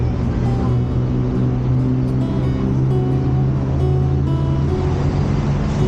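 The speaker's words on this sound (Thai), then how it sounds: "รถยังติดอยู่เลย" Steady road traffic on a busy Bangkok street at night, a continuous loud rumble of engines and idling vehicles with a low droning hum throughout and no pauses, no speech audible.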